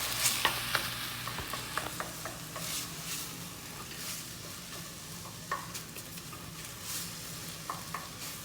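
Ground meat and chopped onion browning together in a pan for chili, with a steady close sizzle and the occasional click and scrape of stirring throughout.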